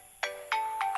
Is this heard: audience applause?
no